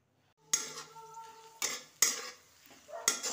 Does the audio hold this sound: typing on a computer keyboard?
no